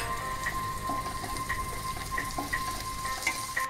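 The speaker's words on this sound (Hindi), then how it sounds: "2 मिनट मैंने लहसुन अदरक को अच्छे से फ्राई किया है" Grated garlic and ginger frying in oil in a pan on a gas flame, a continuous soft sizzle with faint crackles and small pops scattered throughout.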